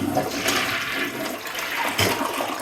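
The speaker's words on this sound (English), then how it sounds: "Then we gotta flush" An OVE OVO toilet flushes up close, a loud, continuous rush and gurgle of water that swells again near the end, with no voices.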